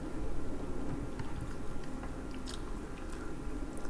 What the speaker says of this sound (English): don't mind the chewing